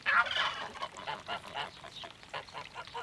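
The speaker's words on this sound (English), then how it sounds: "Three geese and a male goose called a gander." Three geese and a gander honk repeatedly in overlapping, uneven calls, moderately close with no speech, the honks loudest at the start and continuing in a steady chatter.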